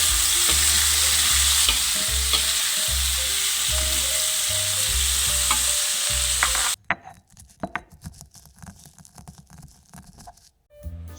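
Fried beef satay sizzles loudly in a wok while a utensil scrapes and stirs in a rhythmic pattern, then the sizzle drops away, leaving sparse clinks and scrapes near the end.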